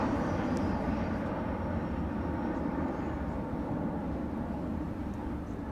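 An easyJet Airbus airliner taxis at Manchester Airport, its engines making a steady, distant low rumble and roar that holds evenly throughout, with no clear voices over it.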